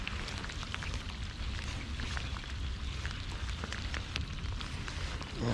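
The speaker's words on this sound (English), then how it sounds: "Hopefully the rain slows down at some point" Steady rain falls on a golf course pond, a dense, even patter with no talk that keeps a constant level throughout.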